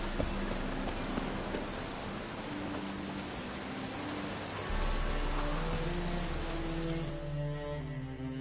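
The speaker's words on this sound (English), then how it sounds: "It's raining again." Steady, dense rain hisses throughout in The Witcher 3 on PS4, with a low rumbling undertone that deepens midway and faint tonal hum beneath.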